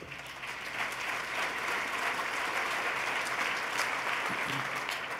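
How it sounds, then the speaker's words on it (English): Sustained audience applause at a 2014 State of the State address, dense and even for about five seconds with no voice over it. "you should applaud for that"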